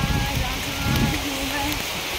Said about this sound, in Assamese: ৱাও মজা বৰষুণ